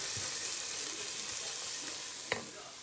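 Garlic cloves and ground ginger fry in a pan, giving a steady, soft sizzling hiss with one brief clack of a utensil near the end; no talking.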